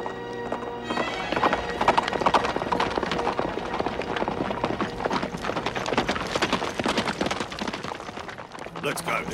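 Hooves of a horse-drawn carriage clip-clop in a quick, steady rhythm throughout a dubbed period drama, with a brief whinny and faint background music underneath.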